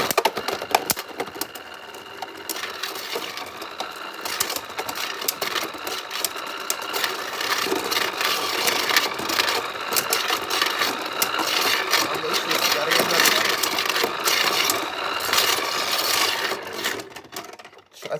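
Beyblade tops spin and clash inside a Motor Strike Stadium, giving a continuous high buzzing whir with rapid rattling clicks and scrapes that swell toward the middle, then fade out near the end.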